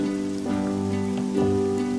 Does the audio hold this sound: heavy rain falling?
yes